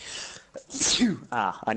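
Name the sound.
sneeze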